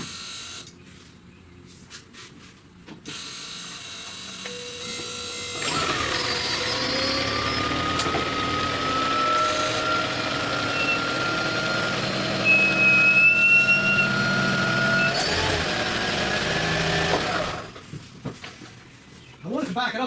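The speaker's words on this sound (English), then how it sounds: "I've never heard one of these Misfire until today, and it sounds god awful" A misfiring Toyota Prius engine with its ignition coils removed runs roughly and unevenly, a steady loud mechanical drone with harsh buzzing and whining tones, broken by quieter gaps near the start and end.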